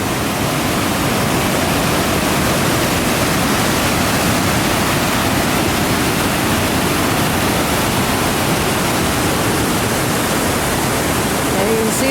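Dense, steady roar of a waterfall in a river gorge at Silver River Falls, loud and close, a continuous broadband rush of falling water filling the scene without pause.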